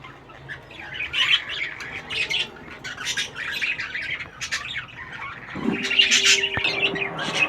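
Budgerigars in a small aviary squawk and chirp continuously throughout, with busy overlapping calls at close range and a louder burst of squawking near the end.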